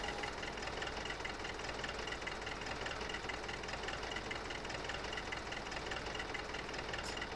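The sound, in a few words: tractor engine running in the video game Farming Simulator 2015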